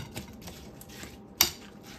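Banana apple cake batter stirred in a bowl, giving soft scraping with one sharp utensil clink against the bowl partway through, close and fairly quiet.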